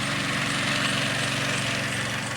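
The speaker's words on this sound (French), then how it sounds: "Ce bruit, c'est celui d'une pirogue à moteur, une patrouille laotienne qui passe à une dizaine de mètres du groupe." Motorized dugout canoe of a Laotian patrol passing about ten metres away on a river at night, a steady low engine drone holding evenly throughout.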